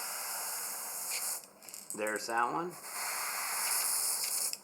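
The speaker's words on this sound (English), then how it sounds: "now I'm going to spray the eyes" Steady airbrush hiss as eyes are sprayed onto a crawfish-pattern custom fishing lure, continuous and fairly close, with a brief spoken remark partway through.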